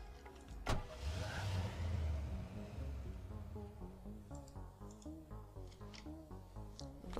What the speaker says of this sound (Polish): Ten samochód, no wiadomo.